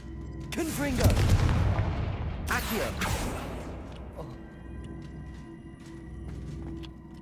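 Explosive blasts from the Confringo spell in the video game Hogwarts Legacy, two loud booming bursts about a second apart, followed by rumbling debris and softer game sounds.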